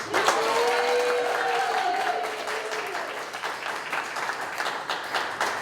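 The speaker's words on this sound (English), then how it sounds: "I just want to give her one more round of applause." A crowd at a fundraiser applauds steadily, dense clapping that gradually thins, with a voice briefly rising over it near the start.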